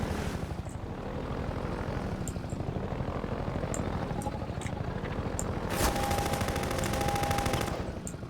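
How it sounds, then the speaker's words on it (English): Sci-fi automatic gunfire in Half-Life 2 over the heavy thudding rotor drone of a helicopter, rapid repeated shots in bursts with a brighter buzzing blast near the end, loud and continuous with no speech. "That's sci-fi gun noise."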